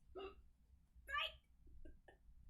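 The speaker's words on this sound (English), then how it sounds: "and I have hiccups now" Hiccups from a tired young person late at night after a prom, a sharp catch then a louder voiced hiccup, with two fainter small hiccups trailing off over a low background hum.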